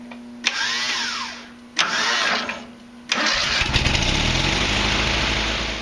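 A Murray 405002X8 riding mower engine cranks in two short bursts after its starter was regreased, then catches on the third attempt and settles into a steady, close running drone.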